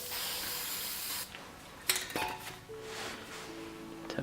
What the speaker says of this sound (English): I'm going to spray a little bit of white